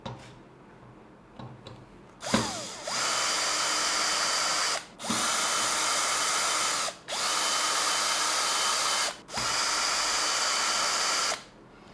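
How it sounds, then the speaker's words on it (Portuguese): A power driver whirs in four separate sustained runs, each a few seconds long with short pauses between, backing out the four screws from the base of a Makita 3709 trim router, loud and close, after a few faint handling clicks. "Você precisa soltar esses 4 parafusos."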